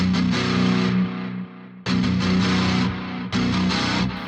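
High-gain distorted electric guitar played through a BOSS GX-100 processor with studio reverb, loud chugging chords that cut off abruptly and restart, with a short reverb tail softening each break.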